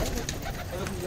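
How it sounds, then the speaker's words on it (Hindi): Pigeons coo softly and continuously in a loft, heard close with a low murmuring texture, with someone talking over them. "क्या कबूतरी है भाई"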